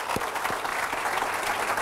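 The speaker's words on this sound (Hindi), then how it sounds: "सुनील गुप्ता जी के लिए जोरदार तालियां" Audience at a motivational training session in Mumbai bursts into hearty clapping, a brief dense patter of many hands with a few sharper claps standing out.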